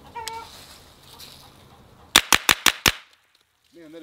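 Five quick, loud gunshots from a Kel-Tec EPC-9 carbine fired in rapid succession outdoors, sharp and close, with a brief voice and light chatter before and after the shots.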